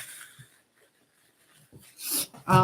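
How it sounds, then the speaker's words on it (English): A single sneeze bursts out near the end after a quiet pause, preceded by a sharp intake of breath, close and fairly loud in an indoor setting with a woman who is unwell. "I feel like I have to sneeze."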